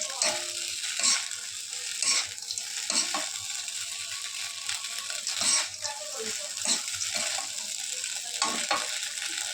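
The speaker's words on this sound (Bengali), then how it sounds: "বাদামগুলো ভেজে রেখেছিলাম, এইগুলো কড়াইতে দিয়ে দিলাম।" Fried nuts and sago pilaf are stirred in a wok, a soft frying hiss broken by repeated scraping and clinking strokes of a spatula at an uneven rhythm, close and without talk.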